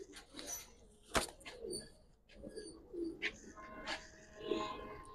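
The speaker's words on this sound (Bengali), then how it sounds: "ভাই আরেক জোড়া কবুতর মাশাআল্লাহ" Giribaz pigeons coo softly in short, scattered bursts at close range, mixed with faint chirps, wing or cage knocks and low background murmur from people nearby.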